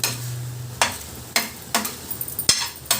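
Mutton eral fry in a pan, a low sizzle broken by a string of sharp clacks and scrapes from stirring, spaced irregularly and fairly close.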